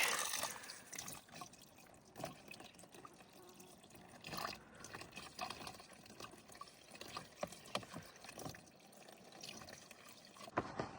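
Water trickles and drips steadily at a trail water source on the Pacific Crest Trail, a soft continuous burble with small splashy accents, and nobody speaks.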